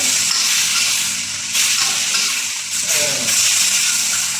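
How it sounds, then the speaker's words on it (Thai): Pork stir-frying in a hot pan in a home kitchen, giving a steady broadband sizzle with stirring scrapes and surges, close and continuous throughout. "เดี๋ยวตัดผัดหมูก่อนครับผัดหมูก่อนควันมันเยอะ"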